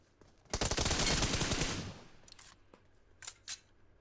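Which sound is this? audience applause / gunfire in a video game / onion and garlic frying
gunfire in a video game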